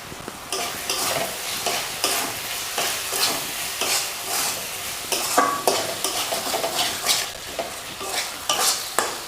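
Masala of tomato, cumin powder and coriander powder frying in oil while being stirred for street-style masala dal, with continuous sizzle and repeated scraping strokes of a spoon in the pan, steady and close, no voices.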